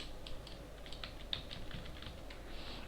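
Light, quick keystrokes on a computer keyboard tap out a short burst of text, soft and close with irregular rhythm against a quiet room hum.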